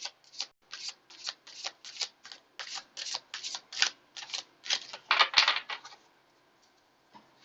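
Tarot cards shuffled and drawn in a steady run of crisp riffling snaps for about six seconds, close and fairly loud, with a brief louder flurry near the end before falling quiet, no voices.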